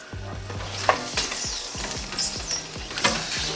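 Chicken wings sizzle and spit inside a Cuisinart digital air fryer toaster oven (TOA-65), with a steady fizzing hiss broken by repeated sharp crackling pops, close and continuous, with no talk.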